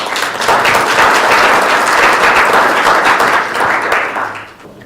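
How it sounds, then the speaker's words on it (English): Audience applause at a talk event, dense steady clapping from a crowd that swells quickly, holds strong for several seconds, then fades out. "let's give a warm round of applause to Julian Mensch"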